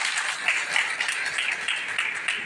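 An audience claps at a political speech, a brief, moderately distant patter of many hands without a clear rhythm.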